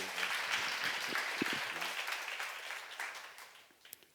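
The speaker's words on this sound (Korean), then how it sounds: "박수로 하세요." Applause breaks out from a church seminar congregation, a dense wash of clapping with some voices at the start that gradually fades toward the end.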